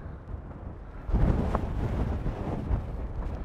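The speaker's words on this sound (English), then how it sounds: "Oh, it's windy, it's really windy." Strong wind buffets the microphone on the Lancashire coast, a heavy low roar that surges louder after the first second and stays gusty and rumbling throughout, with no voices.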